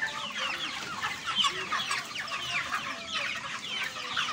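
Broiler chickens on a Nigerian farm cluck and chatter continuously, a busy flock close by with no talking.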